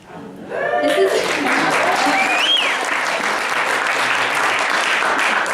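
An audience at a Bellingham speaking event bursts into applause, swelling quickly after a brief voice and holding as a loud, sustained wash of clapping with a few whoops and cheers.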